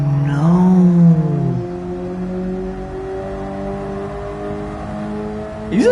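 A Mazda CX-30 with a manual transmission in Gran Turismo 7 holds a steady, close engine drone, then its revs climb sharply in a rising whine right at the end.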